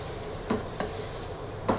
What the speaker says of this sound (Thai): ผัดให้เข้ากันก่อนนะครับ